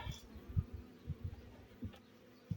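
Honeybees buzzing faintly in a low drone, with a few louder passes coming close and fading again over a quiet background, at an apiary during honey extraction.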